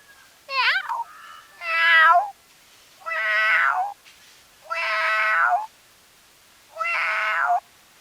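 A voice imitates a cat meowing, five drawn-out, wavering meows with short pauses between them, close and clear.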